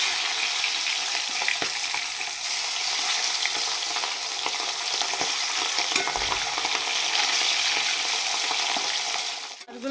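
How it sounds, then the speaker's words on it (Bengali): Fish fry in hot oil with a loud, continuous hiss and crackle close by, occasionally stirred, steady for about ten seconds with no talking. "মাছগুলো আমার সুন্দরভাবে ভাজা হয়ে গেছে"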